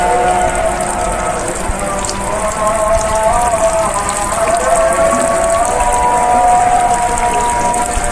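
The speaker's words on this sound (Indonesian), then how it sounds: "Siramkan secara merata, kalau bisa menggunakan gembor ya seperti ini ya" Steady splashing water poured continuously from a watering can onto potting soil, a close, even patter with no pauses.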